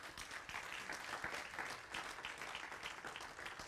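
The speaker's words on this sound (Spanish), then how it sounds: "Dale ese aplauso al Señor." Church congregation applauding during a sermon, a steady, even wash of clapping from a crowd heard at moderate distance, with no talking over it.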